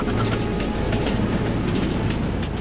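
Train rolling into a station, a loud, close, continuous rumble with clattering wheels on the rails and no voices.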